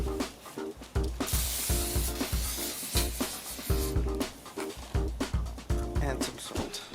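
Veggie kabobs sizzling on a grill while oil is sprayed over them, a long hissing spray burst over steady sizzle and repeated clacks of handling, close and moderately loud, with a voice speaking briefly.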